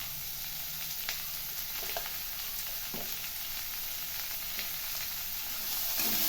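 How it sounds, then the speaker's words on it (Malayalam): Curry leaves, onions and a pinch of salt sizzle softly in a pan for a spinach thoran, a steady low hiss broken by occasional faint stirring clicks. "കറിവേപ്പില ഇട്ട് കൊടുക്കാം."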